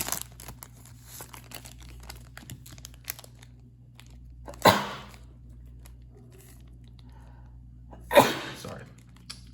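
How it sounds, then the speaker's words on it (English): Two sharp, loud sneezes a few seconds apart, close by, with quiet rustling and handling noises in between. "Sneeze there"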